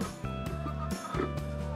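Chickens clucking steadily and close by, a busy flock with overlapping calls and short repeated clucks.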